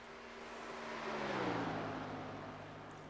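A race car in the iRacing video game passes across the start-finish line, its engine tone swelling to a peak mid-pass and sliding down in pitch as it moves away.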